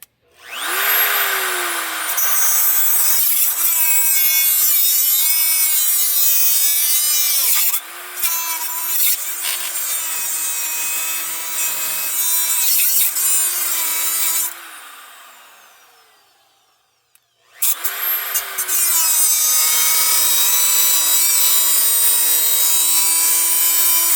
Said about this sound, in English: I think I'm cutting through the bolt at this point.